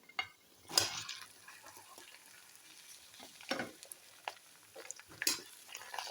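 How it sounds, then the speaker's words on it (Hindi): Okra (bhindi) dropped into hot oil left from frying onions flares into quiet bursts of sizzling, rising and fading with stirring and scraping in the pan. "और अब इसी ऑयल के अंदर मैं भिंडी ऐड करूँगी"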